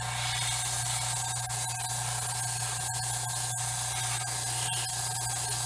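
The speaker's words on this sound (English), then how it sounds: "airbrush the glove and paint it the same color as the hands" An airbrush sprays paint onto a latex glove, giving a steady, close hiss of air and paint that runs unbroken throughout, over a low background hum.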